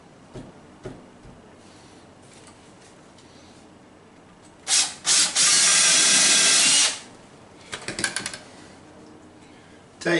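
A power drill bores into a 2x4 in one loud, sustained burst of about two seconds, followed by a few short, quieter trigger pulses.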